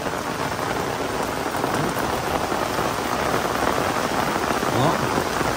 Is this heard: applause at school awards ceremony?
no